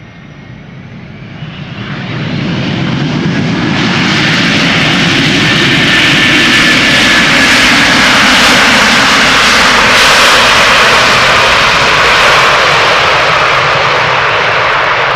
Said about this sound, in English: 136 arriving from Detroit, Michigan. Airbus A330-300, 7 hours and 27 minutes underway, 17 years old.